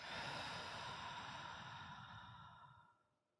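A single long, breathy exhale from a person during a guided breathing exercise, close and quiet, fading out over about three seconds.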